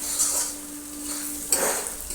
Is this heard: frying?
yes